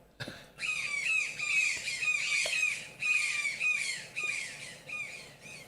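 A toucan calls in a series of repeated harsh, squawking croaks, each short and rising, delivered in a steady rhythm and fairly close with no talking.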